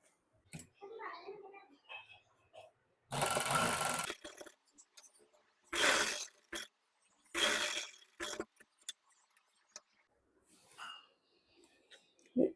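Sewing machine stitching a finishing strip onto fabric, heard in three loud bursts of whirring running a second or so each, separated by pauses with quieter handling noises and soft speech.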